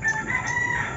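A rooster crows on a Labuyo and Bantam gamefowl farm, one sustained crow lasting about a second, moderately loud against faint outdoor background with no talk.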